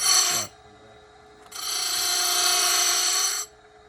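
A chainsaw chain is sharpened on a grinder stone: a short bright grinding burst, a pause, then a longer steady high-pitched grind lasting about two seconds before stopping.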